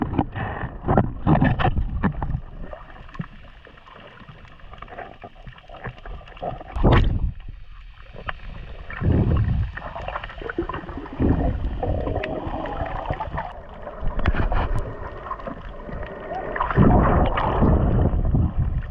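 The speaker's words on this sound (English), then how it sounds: "That's a boat. It's quite a ways away, but it's amazing how far you can hear boats under the water." A low, distant boat engine drone carries through water, muffled and steady, with gurgling bubbles and occasional swishing sounds over it.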